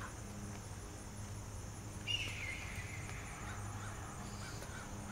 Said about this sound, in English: Oh my gosh, that was a bird and it scared